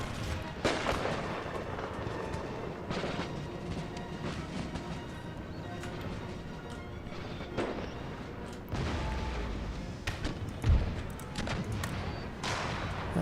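Artillery cannons in Empire: Total War fire in scattered booming volleys, some near and sharp, others distant and dull, over a steady battlefield din.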